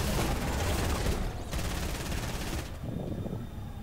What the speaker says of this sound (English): Who's firing?